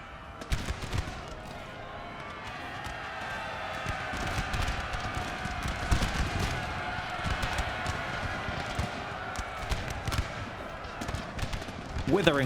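Musket volleys crackle in Napoleon: Total War, a dense run of sharp irregular shots layered over a steady battle din, with some louder cracks near the start and end.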